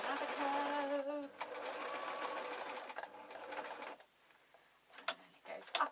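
A sewing machine runs continuously, stitching a soft toy bat, its steady motor hum and rapid needle rhythm dominating before slowing and stopping into quieter handling clicks and bumps.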